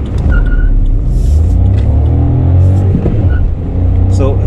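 Inside a 2020 Volkswagen Vento TSI petrol manual, the engine revs hard with a loud, rising growl that holds throughout, joined briefly by a faint chirp and a short drop in level near the end.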